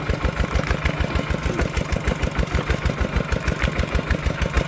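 A farm tractor engine chugs steadily nearby in a rural setting, its even rapid pulsing beat continuing without pause.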